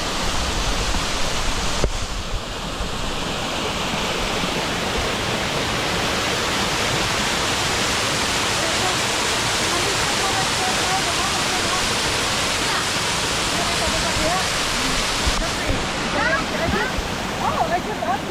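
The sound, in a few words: Dangayon Falls waterfall rushing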